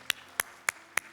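Clapping during a Friday prayer service at a Korean church: four sharp, evenly spaced claps ring out close by in quick succession against a quiet background.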